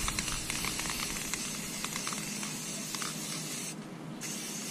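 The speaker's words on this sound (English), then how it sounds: "Let's spray this body up some more." An aerosol can sprays candy paint onto a radio-controlled car body in a continuous close hiss with small pulses, broken by a short pause near the end before spraying resumes.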